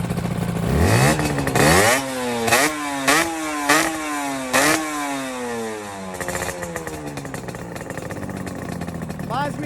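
A two-stroke motorcycle engine is blipped several times, each rev rising sharply and falling back to a buzzy, rattling idle, loud and close, while people talk over it.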